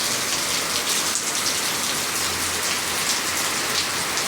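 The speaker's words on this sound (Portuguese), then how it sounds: "Bênção de Deus, muita chuva, minha gente." Heavy rain pouring down at night along a seafront, a dense, steady roar of drops pounding surfaces, loud and even throughout with no voices.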